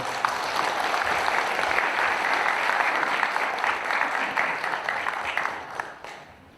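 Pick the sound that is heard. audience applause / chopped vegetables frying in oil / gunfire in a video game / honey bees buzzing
audience applause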